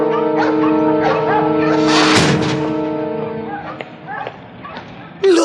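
A large dog in a cartoon scene gives a few barks and whimpering yips over a musical backing, then a louder bark bursts in at the end.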